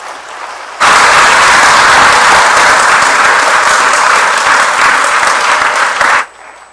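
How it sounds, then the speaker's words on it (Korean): A church congregation bursts into loud, sustained applause welcoming the pastor to the front, steady clapping that holds for about five seconds before cutting off abruptly. "목사님 나오실 때 이제 우리 큰 박수로 환영하겠습니다"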